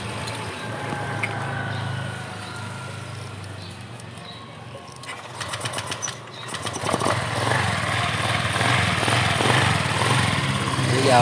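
A 2014 Honda PCX scooter with a fuel pump and ignition connection fault and a lit FI warning light: quiet for several seconds, then its small engine fires and runs at a steady close idle.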